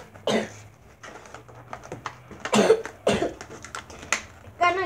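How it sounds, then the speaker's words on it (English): A few short coughs break out near the start and middle, close and loud, with some quiet rustling between them. "Got a little bit of a cough"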